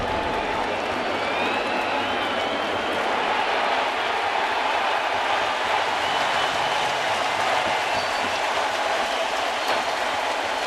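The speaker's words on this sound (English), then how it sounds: "listen when the crowd starts going." A large baseball crowd roars steadily at Yankee Stadium during a Red Sox–Yankees game as Alex Rodriguez bats, a dense wash of cheering and noise that never lets up.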